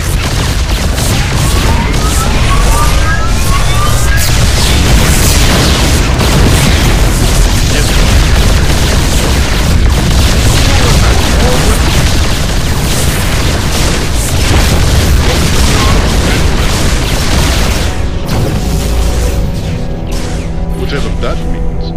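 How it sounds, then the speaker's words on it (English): Yamato cannon shots bombarding in StarCraft 2: loud, dense booms and bursting blasts roll on without pause, with a thick rumbling low end, while voices and game effects run underneath. "hit him with the Yamato cannon. A couple of shots from that'll flatten anything."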